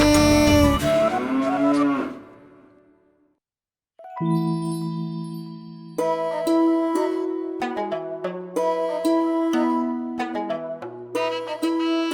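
A cow moos once, long and loud, at the start of a children's rhyme, fading out before a pause and then a bright, chiming keyboard melody with bell-like notes.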